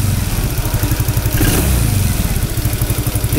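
Suzuki Nex II scooter engine idling at a raised RPM after fitting an NGK Platinum spark plug, a loud, close, steady rapid putter with a slight swell midway.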